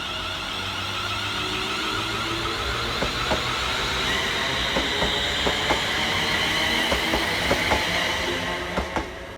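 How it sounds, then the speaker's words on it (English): A Scotrail train pulls into Paisley Gilmour Street station, its wheels clicking rhythmically over rail joints beneath a steady hiss and faint squeal, moderately close. "Arriving next into the station will be"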